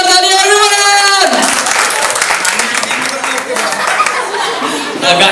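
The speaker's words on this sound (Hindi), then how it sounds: "तो इन स्टूडेंट्स के लिए एक बार जोरदार तालियां एवरीवन" An audience claps loudly for students at a school event, steady applause mixed with chuckles and chatter, starting after a brief sung or spoken note and continuing throughout.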